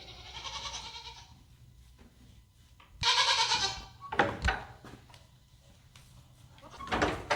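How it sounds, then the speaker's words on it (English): Hungry goats on a homestead bleat during morning chores, with several loud, wavering calls in bursts separated by quieter gaps, close to the listener. "We have got some hungry goats over here."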